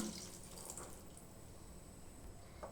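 A glass of water is poured into potato curry masala in a pan, giving a soft, faint trickle that runs steadily and quietly throughout.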